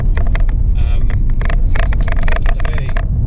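Air- and oil-cooled engine of a Porsche 911 993 while driving, a loud steady mechanical drone with rapid clattering bursts, close and continuous throughout.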